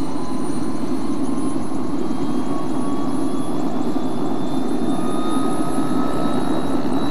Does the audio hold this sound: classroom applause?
no